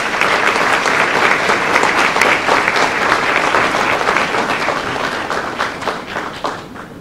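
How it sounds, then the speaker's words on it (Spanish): Loud, dense applause from a conference audience thanking panel speakers at the close of a session on transparency and technology, steady throughout and tapering slightly toward the end. "les pediría un fuerte aplauso a los ponentes"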